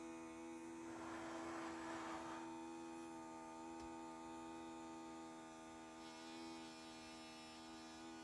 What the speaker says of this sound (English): I don't know if you can hear the pitch get a little higher as it sucks the oxygen out